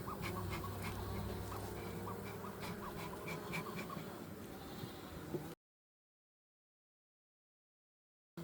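Honey bees in a hive during an Apiguard treatment on a cold day make a dense, close buzzing hum with scattered sharper sounds. The sound then cuts to silence about two-thirds of the way through.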